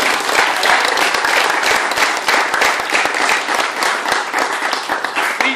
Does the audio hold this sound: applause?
yes